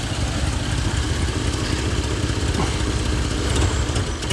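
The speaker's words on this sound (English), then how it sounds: "Let's give it one more rev, just for interest's sake." A 1988 Chevrolet Suburban 2500 V8, revived after six years of storage, running with a steady rough engine rumble, close and continuous with no clear rise and no talk.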